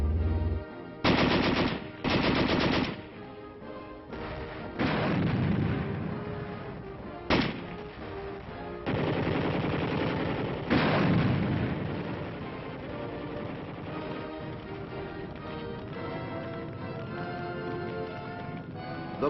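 Gunfire from Eighth Army guns in a Korean War battle, with loud bursts of machine-gun fire and sharp single shots in several clusters, then a steady rumble of continuing fire, heard on an old newsreel-style soundtrack.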